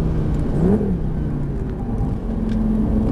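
A Lamborghini Gallardo accelerates on the Lédenon race track, its engine a loud, close rumbling drone that rises briefly in pitch, with no talking.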